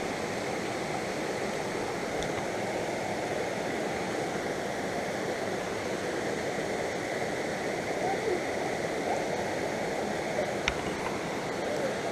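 Water of a mountain stream in Bukhansan National Park rushes steadily, a broad, constant roar heard close up without pause.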